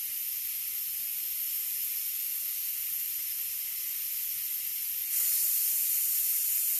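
Steam hisses steadily from the pressure-release valve of a pressure cooker holding BBQ pulled pork, a loud continuous broadband rush that swells slightly brighter near the end, with no voices.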